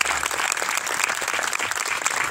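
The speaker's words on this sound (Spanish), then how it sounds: "Un fuerte aplauso para todos." Audience at a panel event giving steady, dense applause, many hands clapping together loudly and continuously throughout.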